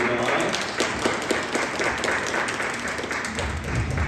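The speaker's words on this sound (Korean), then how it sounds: "네, 박수 올려드리겠습니다." A church congregation applauds steadily through a dense, sustained burst of clapping at a Sunday worship service, with the clapping filling the room at an even loudness.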